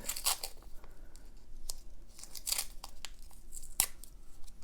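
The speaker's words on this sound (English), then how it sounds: "Put the blade on the masking tape and then wrap all the sharp edges into the masking tape" Masking tape is pulled and wrapped around an old utility knife blade, giving sharp tearing rips and crinkling crackles in a few distinct bursts over quiet handling noise.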